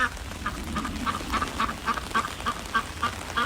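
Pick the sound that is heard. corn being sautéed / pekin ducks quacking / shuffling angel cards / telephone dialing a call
pekin ducks quacking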